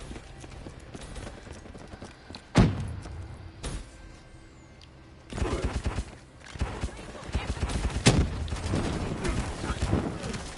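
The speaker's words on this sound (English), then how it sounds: "And rapid fire does work with the purifier." Rapid-fire purifier gunshots in a video game, bursts of quick repeated shots and impacts in several clusters over steady game background noise, with a voice talking over them.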